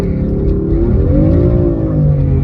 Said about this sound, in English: A good old launch control.